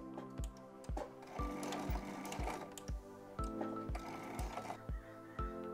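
Sewing machine quilting a slow circle on fabric, a steady mechanical hum with regular needle thumps, about two per second, close by and alone.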